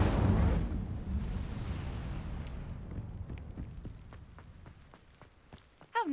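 Incendio fire spell cast in the Hogwarts Legacy video game: a loud whooshing burst of flame opens the clip, then fades into crackling, scattered pops and a sharp sound effect near the end.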